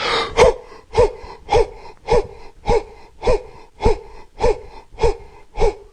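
Deep, rhythmic breathing during a Cellercise rebounding warm-up, about ten strong breaths in and out at a steady pace of roughly one every half second, close and loud with no talking.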